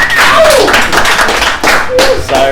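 An audience claps for a band at an indoor festival interview, a short burst of applause mixed with a few cheers and voices close by.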